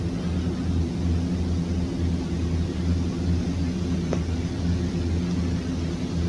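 A Fokker 50 turboprop airliner on its landing approach in the X-Plane 11 flight simulator gives off a steady, loud cockpit drone with a low, even hum throughout.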